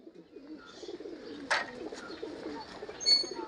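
Golden pigeons coo in soft, low warbling bursts, close but quiet, with a brief rustle midway and a faint higher chirp near the end.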